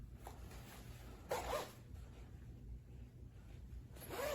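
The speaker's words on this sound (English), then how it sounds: "Nice zippers." Short zipper rasps from a fleece heated vest, a couple of quick pulls close to the mic over a steady low background hum.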